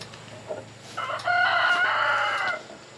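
Chickens and chicks outside with a hen, clucking and a rooster-like crow rising in the middle and holding for over a second before fading, with softer fowl calls around it.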